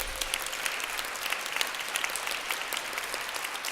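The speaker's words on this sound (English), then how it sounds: "another round of applause for them" A crowd at a holiday event in a Statehouse breaks into steady, dense applause, many hands clapping together at an even level for several seconds with no voices over it.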